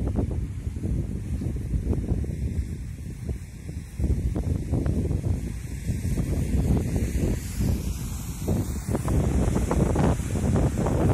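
Loud, steady rushing water roars continuously from a nearby waterfall in Rostov Oblast, Russia, with broadband noise and wind buffeting throughout and no voices.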